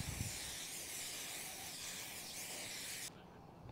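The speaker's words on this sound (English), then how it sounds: "we want to make sure that our skillet is properly sprayed to spray and cook" Cooking spray hissing onto a skillet in one steady, close burst lasting about three seconds, then cutting off sharply into quiet.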